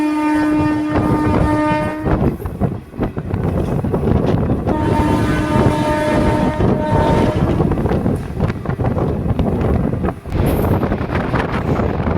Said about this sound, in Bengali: আর এইখান থেকে আমাদের ট্রেন ডান দিকে টার্ন নিয়ে নেবে